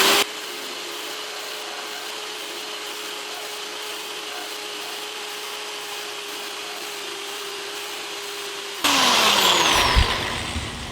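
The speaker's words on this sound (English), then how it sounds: "start the drill bit back up on full speed" A steady, constant grinding hum of a drill bit boring through a glass aquarium at full speed runs for several seconds, then grows suddenly louder and harsher near the end.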